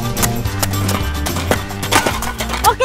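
Sumba horses being ridden give off a busy run of thudding hoof beats and knocks, close and fairly loud over a rough outdoor background.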